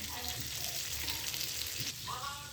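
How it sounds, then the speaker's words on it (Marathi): Mackerel (bangda) fish frying in a pan for a crispy fry, a steady broadband sizzle that runs continuously with faint clinks and talk-like murmurs underneath. "आणि छान फ्राय होतात ते मासे"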